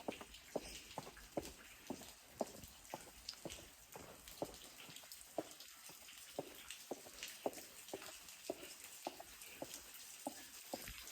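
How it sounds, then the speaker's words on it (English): Steady rain patters down outdoors at night along a road trip stop, with distinct close drops tapping in an irregular rhythm over a constant wash of rainfall, no voices present. "It's like legit raining."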